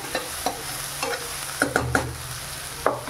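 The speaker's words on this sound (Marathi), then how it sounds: "व्यवस्थित परतून घेऊया." A spoon stirs semolina as it sautés in a pan for rava upma, making soft sizzling with a series of scraping, clinking strokes at an uneven rhythm, close up and with no talk.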